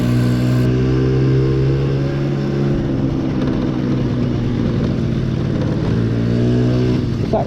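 A classic Honda Melody moped engine runs steadily during a ride, a loud close drone with a low humming tone that shifts slightly in pitch as speed changes, and no talking over it.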